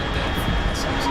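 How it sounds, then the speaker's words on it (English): Jet aircraft roaring steadily overhead in the stealth action game Metal Gear Solid 3: Snake Eater, a continuous broad rumble with a faint high whine, briefly mixed with other game sounds. "Unidentified aircraft detected."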